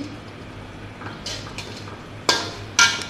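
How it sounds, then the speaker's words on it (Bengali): Spices being stirred and mixed into pasta in a pan, soft scraping and stirring at first, then two sharper clinks of a utensil against the pan near the end. "সব কিছু এখন মশলাগুলো শুধু মিক্সড করব।"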